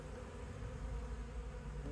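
Honey bees in a hive as a frame is slid in, a dense continuous buzzing hum, close and steady throughout with no voices.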